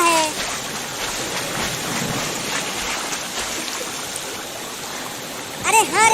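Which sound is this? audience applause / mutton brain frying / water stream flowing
water stream flowing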